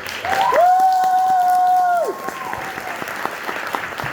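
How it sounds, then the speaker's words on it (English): Audience applause and cheering for the cast of a stage play of It's a Wonderful Life, the WBFR Players in New York City, loud and dense with a sustained whistle-like tone over it early on, then fading into scattered clapping. "Round of applause to the hardest working cast in New York City, the WBFR Players."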